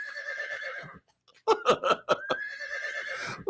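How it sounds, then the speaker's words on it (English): A horse whinnies loudly and close by in a long, wavering call, then falls quiet before a burst of choppy, stuttering neighs and a final drawn-out whinny. "Get that horse out of here."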